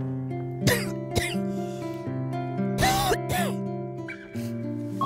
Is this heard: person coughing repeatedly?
yes